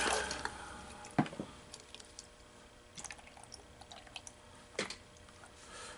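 Water swishes in a gold pan of concentrated paydirt from Kenai, Alaska, with soft sloshing, drips and a few splashy peaks close by, no talk.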